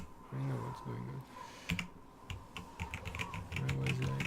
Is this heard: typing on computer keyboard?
yes